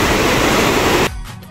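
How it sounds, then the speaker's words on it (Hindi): Steady broadband roar of water pouring down Narhara falls near Dhamtari, loud and close, continuous for about a second before cutting to a quieter wash. "ये जलप्रपात आप मन देख सकते हो ये तरफ गिरत पानी है"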